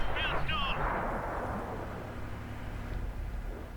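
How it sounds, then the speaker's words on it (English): A tank cannon fires in World of Tanks, a Tier X medium, with a heavy boom at the start followed by a long rumbling decay and engine drone; a brief chirpy game tone rises early on. "These are perfect flanking shots, but they're not hitting."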